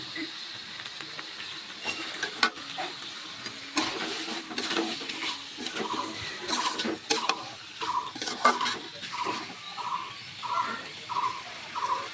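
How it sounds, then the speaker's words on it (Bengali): Meat is stirred into fried spice paste in a pan while cooking a curry, making soft, irregular scraping and clinking sounds close up, joined later by repeated short, faint tapping noises. "এখন মশলাটা কষানো হয়ে যাওয়ার পর আমি দিয়ে দিচ্ছি মাংসগুলো মাংস দিয়ে সুন্দর করে নাড়াচাড়া করতে হবে"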